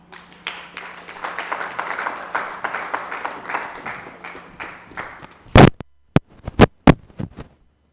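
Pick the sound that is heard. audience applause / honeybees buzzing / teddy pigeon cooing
audience applause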